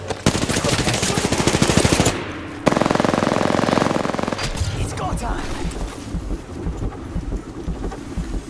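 Rapid automatic gunfire from a video game shooter, loud and dense bursts with a brief gap, then continuing heavier rumbling fire and tails fading under the action.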